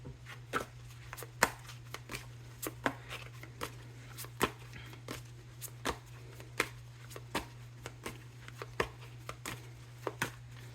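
Tarot cards being shuffled close up, a quiet series of soft riffling snaps at an irregular rhythm over a low steady hum.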